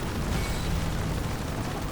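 A mechanical boss in the video game Split Fiction fires lasers from its eyes, a loud, continuous, rumbling roar that fills the whole two seconds with dense blasting texture.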